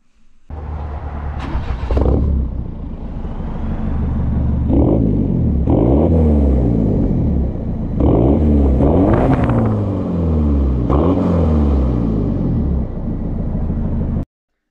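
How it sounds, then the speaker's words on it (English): A Peugeot RCZ with a newly fitted aftermarket exhaust makes several loud, close drive-bys, its engine note rising and falling as it approaches, passes and recedes, with revving swells between passes. "I'll do a couple of drive-bys so you can hear how it really sounds"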